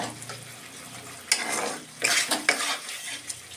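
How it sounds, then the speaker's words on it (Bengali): Paneer and a splash of water hit a hot pan, giving a few sharp bursts of sizzling spit amid stirring and utensil clatter, with quieter frying in between. "এইবারে আমি পনিরগুলো দিয়ে জল দিয়ে দেব"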